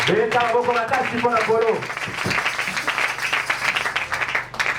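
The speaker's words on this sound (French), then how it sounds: "Acclamez très fort pour le Seigneur." A church congregation bursts into loud applause for the Lord, a dense wash of clapping that follows a stretch of voices and carries on under continued talking.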